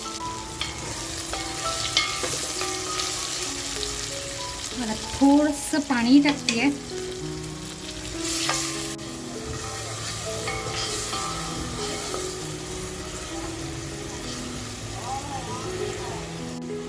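Marinated kingfish (surmai) fish frying over onions and masala in a pan for biryani, a steady sizzle with stirring clatter throughout, under a woman's speech.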